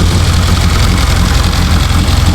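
A Mitsubishi EVO 8 engine, built to 800 whp, idles loud and close in a closed garage, with a steady rumble and rapid ticking from lifters that are still dry of oil.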